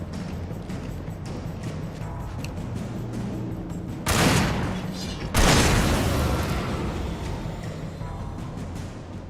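Two loud, close blasts of gunfire erupt in Alan Wake Remastered, each a sharp burst that trails into a long rumbling decay over a steady dark ambient game background, with no talk during the shots.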